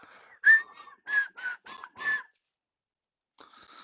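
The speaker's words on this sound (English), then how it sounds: "that whistle is going" A whistle sounds in a series of short, clear tonal bursts, about six in quick succession, then a pause and a fainter final pair, fairly close with no talk.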